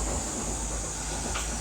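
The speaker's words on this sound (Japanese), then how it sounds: "今ちょっと電車が通ってるんで" A nearby train rumbles past with a steady, loud roar and hiss, filling the whole moment with no voices.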